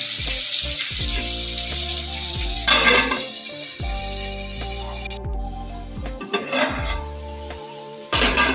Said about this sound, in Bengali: আলুগুলো নুন মাখিয়ে রাখলাম সেই আলুটা দিয়ে দিচ্ছি। আলুটা দিয়ে নেড়ে চেড়ে আমি একটু ঢাকা দিয়ে দেবো